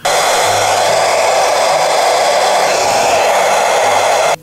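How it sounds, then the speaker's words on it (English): A hair dryer blows continuously at close range, a loud steady rushing whoosh with a low motor hum underneath, running alone without any talk. "And now I'm just going to run the hairdryer on this."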